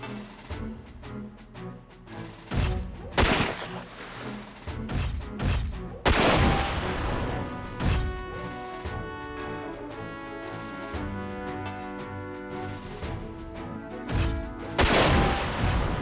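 Sniper and battle gunfire in the PS2 game Front Mission 4, a dense run of loud sharp shots and booming blasts in irregular bursts throughout, with no talk.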